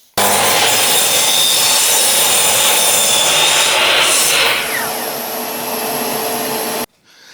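A power saw cuts thin scrap wood strips to equal length with a loud, close, continuous whining roar that lasts about six and a half seconds. It dips slightly partway through, then stops abruptly, with no voices.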